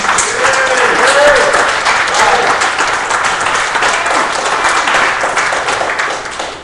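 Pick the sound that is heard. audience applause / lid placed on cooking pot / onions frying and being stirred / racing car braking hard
audience applause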